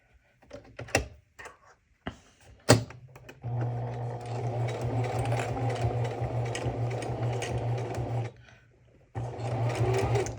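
A sewing machine stitches fabric Valentine's Day coasters in a long steady whirring run, preceded by a few sharp clicks and knocks of handling, then stops briefly before starting up again.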